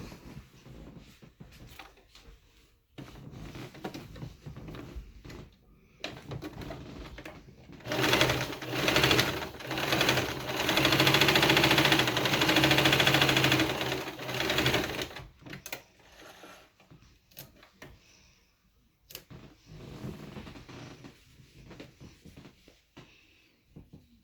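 A sewing machine stitches fabric during a beginner sewing project, starting with short bursts of needle clatter and then running in a loud, continuous whir for several seconds before easing back to brief stops and starts.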